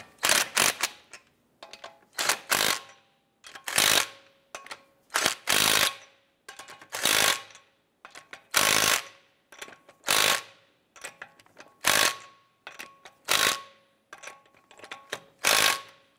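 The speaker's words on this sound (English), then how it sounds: "Once we get all of our lug nuts started, we're gonna go ahead and snug them down" Ratchet wrench snugging down lug nuts on a 2012–2017 Toyota Camry wheel, in about a dozen quick bursts of sharp clicking separated by short pauses, close and loud.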